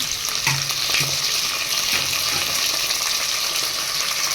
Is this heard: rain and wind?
no